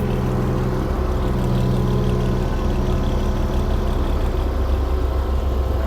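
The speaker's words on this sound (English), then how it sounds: "Alright, tractor's back now." A tractor engine runs steadily at a site where a shed base is being laid, a constant low mechanical drone with an idling character, close and fairly loud, with no talking.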